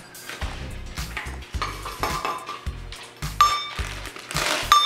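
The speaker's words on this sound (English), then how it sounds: "I'm gonna add the chocolate chip" A cup and a half of chocolate chips tumbles into rested cookie dough for a chocolate chip cookie, giving a run of clattering clinks and taps against a bowl that grow a little louder toward the end.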